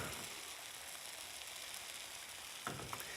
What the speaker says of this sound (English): Work our way around the pan until the eggs are mostly set and there's no liquid egg remaining.